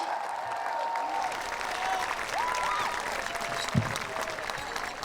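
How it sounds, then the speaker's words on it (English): A crowd at a high school graduation ceremony applauds the graduates, a steady, moderately distant wash of clapping with faint whistles rising over it and one brief louder thump near the end. "Can we get a round of applause for our graduates, please?"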